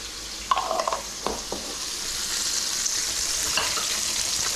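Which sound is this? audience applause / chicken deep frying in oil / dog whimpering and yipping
chicken deep frying in oil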